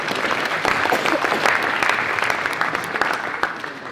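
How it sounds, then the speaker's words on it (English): Lively audience applause greets a speaker at a UL space careers roadshow, many hands clapping in a dense, even burst that holds steady for several seconds before tapering slightly. "Round of applause for Eoin."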